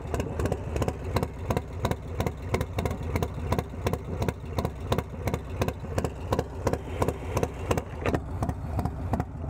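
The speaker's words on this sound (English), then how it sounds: "I believe I told you guys I was going to let you guys hear the idle." A 2024 Harley-Davidson Low Rider S idles alone, its engine loping in a steady, lumpy rhythm of regular pulses heard up close.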